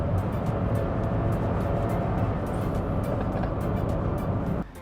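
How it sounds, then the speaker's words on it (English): Cabin drone of a 2020 Perodua Axia 1.0 Advance hatchback being driven in Malaysia, a steady, fairly loud engine and road hum that continues evenly before dropping slightly at the very end. "I love driving this car."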